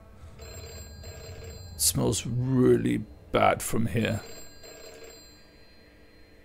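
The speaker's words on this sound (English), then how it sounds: "The ringing's getting louder." A telephone bell rings in the video game Deep Sleep, a faint, persistent tone that carries on beneath a voice talking over it.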